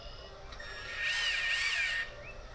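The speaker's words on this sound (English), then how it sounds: "We'll put the screws back in. They're just little like sheet metal screws essentially." A power driver runs small sheet metal screws back into the neck and beam insert of a 50-ton Talbert lowboy trailer, giving one close, whining burst of about a second over faint background hum.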